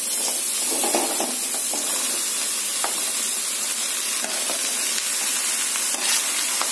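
Snake gourd tossed onto sautéed onions in a hot pan makes a loud, dense, continuous sizzling hiss, with faint clinks and stirring scrapes within it and no voices.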